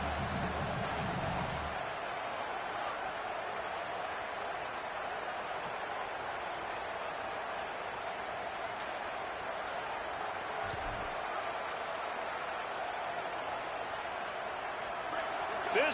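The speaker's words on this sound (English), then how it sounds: "This crowd bringing the energy and noise early." A stadium crowd at a football game keeps up a steady, dense roar throughout, with a brief low thump early on and someone talking over the crowd.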